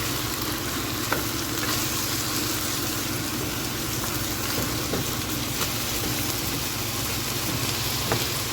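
Chicken pieces for Filipino chicken adobo fry in a pan with a steady, dense sizzle and crackle, with occasional small pops and stirring sounds, close and continuous without speech.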